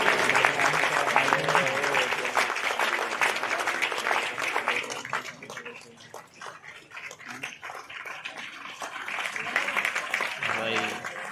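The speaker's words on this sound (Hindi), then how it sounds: "तालियां बजती रहना चाहिए" An audience keeps up its applause at a Jagannath installation-day gathering at the Gupteshwar ashram: thick, continuous clapping that dips briefly in the middle, then swells again, with voices mixed in.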